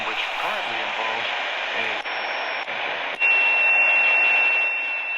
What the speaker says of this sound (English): Now there are birdie tones.